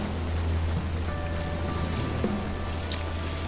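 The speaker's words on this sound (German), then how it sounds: "Das ist mega laut bei dem Fluss." Loud river rushing in a video game, a constant dense wash of water noise with a low rumble underneath and a few faint tonal hints from the game layered on top.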